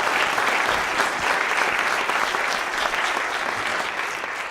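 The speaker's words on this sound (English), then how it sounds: "can we just give a round of applause for our speakers?" An audience at a university law school event applauds the speakers, with dense continuous clapping at a steady level that tapers slightly toward the end.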